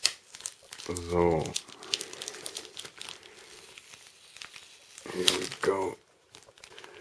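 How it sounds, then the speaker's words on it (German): Clear adhesive tape strip peeled off a Japanese collector's box set, heard as crinkly tearing and crackling bursts close up, with someone speaking briefly at the start and in between. "einfach hier den Tesafilmstreifen entfernen"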